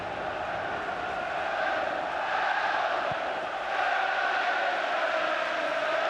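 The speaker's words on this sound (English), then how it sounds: "Just listen to those Leeds fans now" Leeds United supporters roar and cheer in the stadium during the 1996 League Cup Final against Aston Villa, a broad steady crowd din swelling slightly, distant and continuous.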